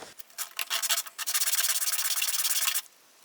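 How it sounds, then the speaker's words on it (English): Sandpaper is rubbed back and forth over a wooden trout glide fishing bait in quick, close strokes that become a steady, even scratching run, then stop. "Maybe instead of a Dremel, let's do some sandpaper."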